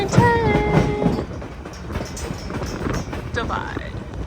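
An Alaskan scenic train rolls along its rails outdoors in Skagway with a steady rumbling clatter, under strong wind buffeting and a few squealing wheel tones. People talk over it.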